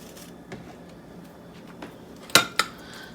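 A spoon stirs plain Greek yogurt in a casserole dish, giving soft scraping with a couple of sharp clinks near the end.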